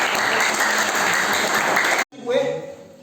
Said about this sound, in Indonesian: Tepuk tangan semua buat Pak James.